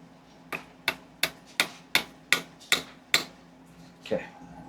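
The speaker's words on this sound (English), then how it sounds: "Need that hammer." Eight sharp hammer blows ring out on aquarium driftwood decor for a 125-gallon tank, struck in a quick, fairly even rhythm close by, followed by a softer final knock.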